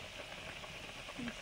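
Fish curry broth bubbling in a pan on the stove, a steady close hiss and simmer that runs evenly through the whole short moment.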